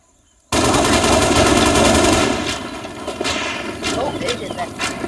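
Gunfire in the video game Teardown: a loud, sustained automatic burst followed by a series of sharper shots and cracks, close and dominant.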